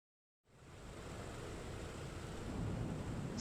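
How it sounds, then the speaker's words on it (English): Four piston engines of a PMDG DC-6 airliner running in Microsoft Flight Simulator 2020, a steady broadband drone that starts abruptly and swells slightly as it continues, alone without talk. "now we have 4 good engines. They are all running correctly"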